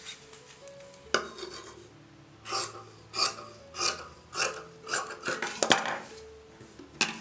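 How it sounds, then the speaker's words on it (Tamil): Scissors cutting through a doubled layer of blouse fabric for two sleeves at once, heard as a series of close, rhythmic rasping snips, roughly a dozen in a row with short pauses, no talk. "ஸோ இது ரெண்டு ஸ்லீவும் ஒன்றா வச்சு இப்போ நம்ம கட் பண்ணுறோம் துணியை."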